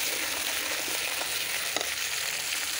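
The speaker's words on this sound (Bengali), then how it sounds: "আলুটা একটু তেলের মধ্যে ভেজে নিচ্ছি" Potatoes fry in oil for a sour-spicy curry, producing a dense, even hiss of sizzling at close range with one faint stir partway through, and no voices.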